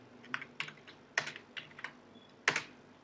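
Code typed on a computer keyboard produces sparse, irregular key clicks, several separate taps and short clusters, close and fairly quiet, with no talking.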